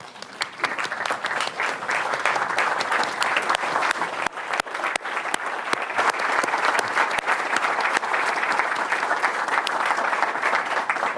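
A conference audience claps steadily and loudly for a long stretch, the dense applause holding an even level throughout with a few sharper individual claps standing out.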